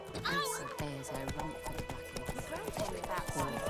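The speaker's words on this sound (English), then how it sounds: "don't mind me running you over with my horse" Rhythmic hoofbeats of a galloping horse in the video game The Witcher 3: Wild Hunt clatter steadily, with a whinny and a voice talking over the busy, music-laden background.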